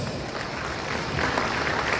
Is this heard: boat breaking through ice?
no